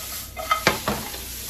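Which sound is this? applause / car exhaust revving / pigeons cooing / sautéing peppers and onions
sautéing peppers and onions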